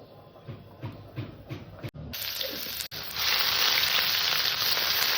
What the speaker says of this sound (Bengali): মাছ ভাজা কড়াইতে আমি তেল দিয়ে দিলাম